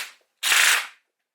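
A gel blaster fires gel balls in full auto during chronograph testing: a single short, dense burst of rapid shots lasting about half a second, loud and close, with a faint sound just before it and silence after.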